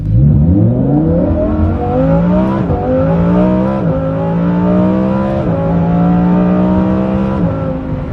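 A Lamborghini Huracan Performante on its stock tune, fitted with a Kline-Innovation Valvetronic exhaust, revs loudly and close, its engine note climbing and holding in several rising pulls with short dips between them.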